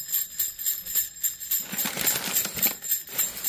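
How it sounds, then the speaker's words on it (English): Small bells inside an unboxed wooden box tinkle and jingle with bright, high, shimmering tones, shaken continuously and growing busier midway, fairly close and alone. "Got bells."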